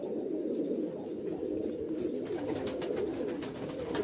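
A large male highflyer pigeon coos steadily and up close, a soft continuous throaty rumble with no voices over it.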